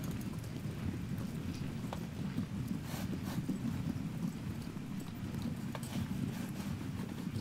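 Cavalry horses in Ultimate General: Civil War pound along in a rapid, continuous drumming of hooves, mixed with a rumbling, stormy wash, loud and sustained for several seconds without speech.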